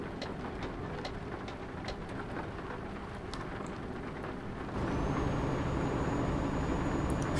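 Steady rain drumming on a truck cab while driving in Euro Truck Simulator 2, a constant hiss with low engine rumble that swells louder midway, no voices present.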